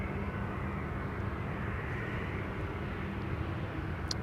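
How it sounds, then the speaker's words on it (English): A KLM Boeing 737-700 at Amsterdam Schiphol gives off a faint, steady distant engine rumble and hiss, low in level and continuous across the whole stretch. "The airplane should have become a little bit more louder."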